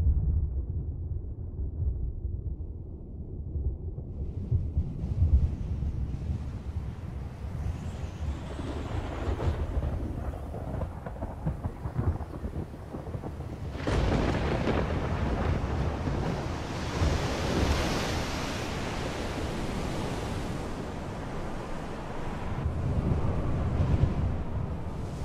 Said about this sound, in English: Far out at sea, a spring storm brews